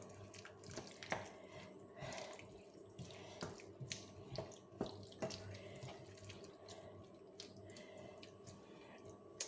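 Tap water running into a pot while cooking beef bourguignon, a faint, steady splashing stream with small clinks and drips throughout, no voices.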